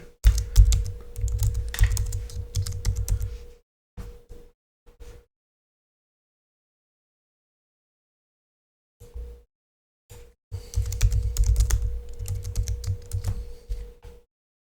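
Password typed on a computer keyboard: close, rapid clicking keystrokes in two bursts, a short scattered run of taps and a long silent pause between them.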